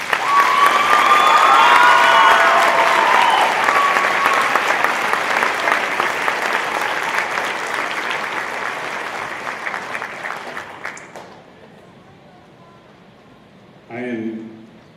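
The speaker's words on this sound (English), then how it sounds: "Let's give these students a round of applause." Loud audience applause with some cheering for middle school students at an all-school band concert, sustained clapping from a large crowd that gradually fades out, followed by a brief moment of talk.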